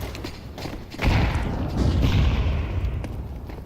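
A grenade bursts in Counter-Strike 2, a single heavy thud that swells into a rumbling boom and rolls on for a few seconds after a quieter opening.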